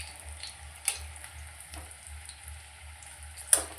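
Boiled food fries in oil in a pan until reddish, giving a soft, steady sizzle close by, broken by occasional clinks of stirring.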